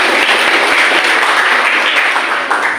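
A workshop audience applauds the organizing team indoors with dense, steady, loud clapping that fills the whole moment without pause.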